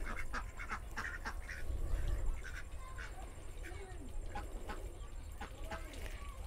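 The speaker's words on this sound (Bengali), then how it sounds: "হাঁসগুলো খাবার খাচ্ছে।" Ducks quack repeatedly while feeding, in short overlapping bursts close by, with people chatting in the background throughout.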